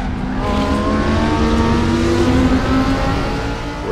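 A GT2 race car engine in the RaceRoom racing game, loud and steady with a strained high-rev tone and rising harmonics throughout, no voices over it.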